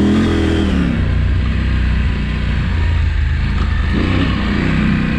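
A dirt motorcycle engine revs loud and close while riding through a sandy wash, holding a steady roar with rising and falling throttle and some clatter, no talking.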